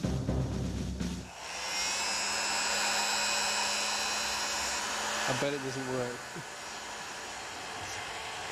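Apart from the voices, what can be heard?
hairdryer heating a tight aluminium pulley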